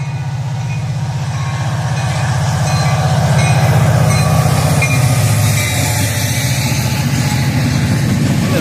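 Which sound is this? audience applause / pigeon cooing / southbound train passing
southbound train passing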